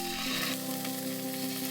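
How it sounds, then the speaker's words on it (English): Scallops fry in smoking-hot cooking oil in a pan, giving a steady, close, continuous sizzle with faint crackles and no talking. "If you don't hear that sizzle, then your pan is too cold."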